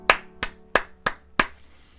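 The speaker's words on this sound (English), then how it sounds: "Round of applause" Five sharp, separate claps ring out at a steady pace, close and crisp. A single person is clapping, not a crowd.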